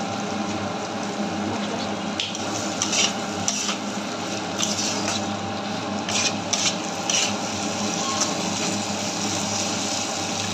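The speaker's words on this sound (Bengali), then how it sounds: "এর উপরে ডালটা ছড়িয়ে দেবো ডালটা আমি একটু ভেজে নেবো" Lentils spread over fried spices and frying in a pan, a continuous soft sizzle with scraping and stirring strokes, close and steady, with no voices.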